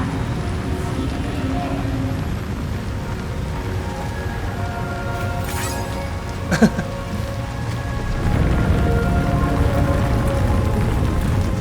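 Steady rain falls in the video game Death Stranding 2, a constant hiss on surfaces with a brief sharp crack midway and heavier downpour toward the end.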